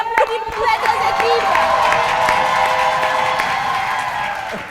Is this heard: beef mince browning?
no